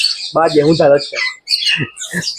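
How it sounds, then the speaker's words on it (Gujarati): Lovebirds in an aviary at Pradhyuman Park zoo in Rajkot let out sharp, shrill squawks in quick bursts, mixed in with someone talking nearby. "આ જો ભાઈ લવ બર્ડ, નામ જ લવ બર્ડ."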